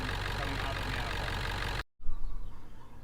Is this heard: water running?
no